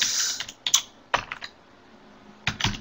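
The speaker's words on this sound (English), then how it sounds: "I am not very good at typing, so please ignore typo errors." Typing on a computer keyboard comes as three short bursts of crisp key clicks, close and fairly loud, separated by brief silences, with no voices.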